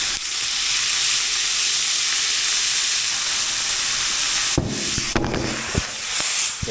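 Onions sizzle in a hot pan, a loud, close, continuous frying hiss that surges and crackles as cider vinegar is poured in and stirred near the end, with no talking.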